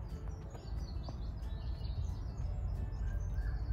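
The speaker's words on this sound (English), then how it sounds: "Now, beautiful bird song." Birds sing and chirp faintly on Chasewater Heath during a walk, scattered high calls over a steady low rumble of wind and outdoor noise.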